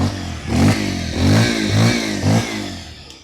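A Bajaj Pulsar 125 motorcycle, just kick-started, revs in four loud, close bursts with rising and falling engine pitch, then settles back toward idle.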